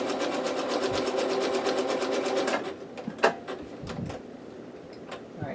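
A sewing machine runs a rapid even stitch for a couple of seconds, then stops. Scattered clicks and handling knocks follow as the fabric is shifted for backstitching.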